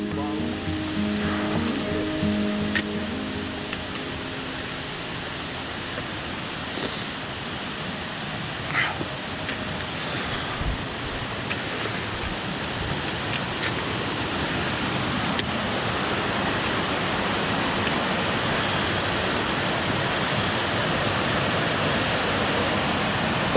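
A waterfall beside a mountain trail in the Issy Alps rushes as a steady, broad roar that holds unbroken throughout, with a few faint knocks on top.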